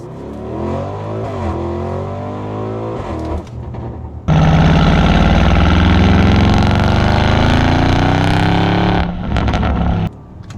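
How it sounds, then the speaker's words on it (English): A 2020 Audi RS Q8 with sport exhaust idles with a deep burble, then blips and flares into a loud, sustained rev that climbs and holds for several seconds before dropping back, heard close up with no talking. "Let's just give it a little gas here."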